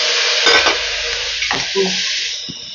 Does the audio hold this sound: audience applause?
no